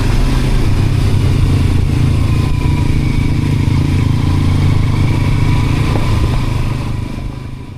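Automatic scooter riding over a rough, heavy dirt road in Flores, a steady loud engine drone with rumbling road noise throughout, easing slightly near the end.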